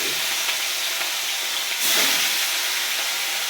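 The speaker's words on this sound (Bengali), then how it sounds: "এই যে তেলটা গরম হয়ে গেছে, আমি তেলে ছাড়বো" Katla fish pieces rubbed with salt and turmeric hit hot oil, giving a steady broadband hiss that swells into a louder sizzling burst partway through and then keeps crackling evenly, close and without talk.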